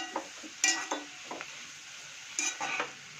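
Spoon scraping and stirring a spice mixture with pepper powder, in chicken dish preparation: a few separate clinking strokes against the vessel, moderately near, with quiet gaps and no talk.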